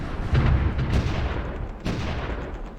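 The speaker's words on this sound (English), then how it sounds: "they took quite a few artillery shells to the face there" Artillery shells land in Supreme Ruler Ultimate, two dull booming impacts with rumbling decay, fairly distant and moderately loud, with no talk over them.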